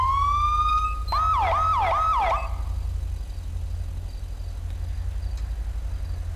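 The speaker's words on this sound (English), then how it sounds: "and the old siren setup" A 2015 Ford Police Interceptor with an older siren setup gives a steady tone, then three quick rising-and-falling yelps close by, before settling over a constant low engine rumble.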